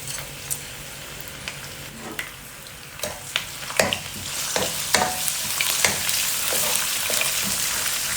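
Ginger garlic paste and cumin seeds fry in a pan while being stirred, giving a soft, continuous sizzle broken by scattered crackles and light scraping taps that grow slightly busier toward the end.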